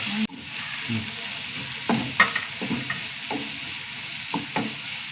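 Onions sautéing in a pan, a soft close sizzle broken by repeated scraping stirs of a utensil against the pan, irregular and fairly quiet, with no talk.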